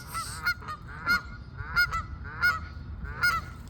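Geese honk in a clear repeated pattern, about five loud close calls spaced roughly evenly, with quiet ground noise between them.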